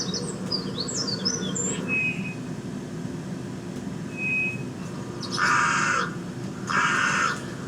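Bird calls over a steady outdoor hum: quick chirps and whistles early on, then two louder, harsh caw-like calls toward the end.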